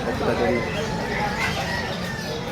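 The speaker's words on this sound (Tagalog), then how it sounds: "Ito yung mga ibon sa loob." Caged birds at the Bocaue pet market in the Philippines chirp and cluck amid a loud, dense market din, with people talking nearby.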